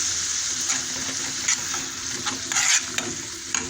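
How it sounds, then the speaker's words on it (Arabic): Onion gently sautéing in a pan, a steady close sizzle with stirring scrapes and a few brighter crackling bursts, no talk. "هديها بقى تشويحه خفيفه كده، هخلي بس لونها يغير"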